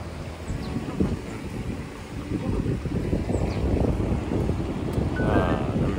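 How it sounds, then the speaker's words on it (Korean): Strong wind buffets an open outdoor spot at the Tongdosa temple grounds, a loud, gusty roar that swells and eases throughout, with faint voices underneath. "되게 바람이"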